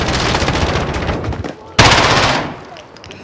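Heavy automatic gunfire in a Modern Warfare Hardpoint match on the Grazna Raid map: a dense, continuous rattle of shots, then a sudden loud burst that trails off into a fading, echoing tail.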